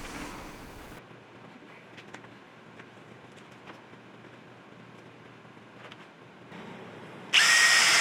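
A power drill bolts a wooden folding bookcase table down to its base, with quiet tool handling and faint clicks, then a loud, steady whirr kicks in near the end.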